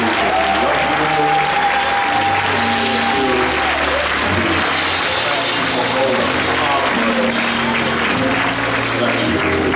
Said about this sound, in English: round of applause for all our pastors and leaders here in the Memphis region